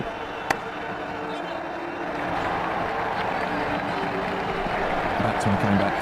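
Stadium crowd in Ashes Cricket 2009 cheering a boundary four, a steady broad roar of applause and cheers that swells toward the end, with a sharp click near the start and commentary voices underneath.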